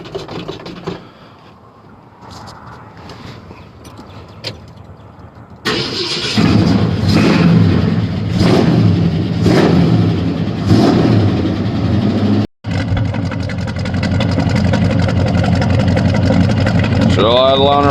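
A large truck engine cranks from a cold start after sitting a couple of weeks and fires up, then idles loudly and revs in bursts close by, with a person talking at times over the rumble.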